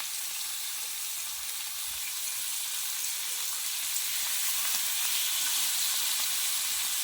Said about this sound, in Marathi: आता हे बाकीचे पीस आहेत ते फ्राय करून घ्यायचे